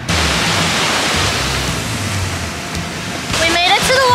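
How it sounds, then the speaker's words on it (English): A waterfall in Hawaii roars as a constant broadband rush, loud and close, with a faint voice briefly audible near the end. "We made it to the waterfall."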